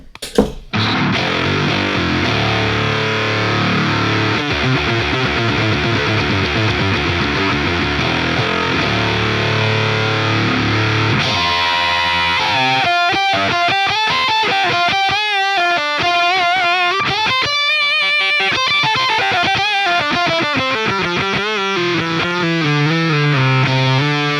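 Electric guitar played through a Joyo Voodoo Octave Fuzz pedal, a thick sustained fuzz chord giving way to loud choppy riffs with shifting notes, continuous and close, with no talk.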